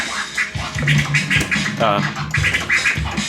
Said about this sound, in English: So a prism sounds like this.